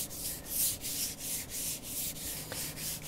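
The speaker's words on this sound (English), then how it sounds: "I can rub all that in." A faux concrete finish on a wood table top is rubbed in by hand, making steady, close, rhythmic scrubbing strokes at a fairly even pace, with no talking.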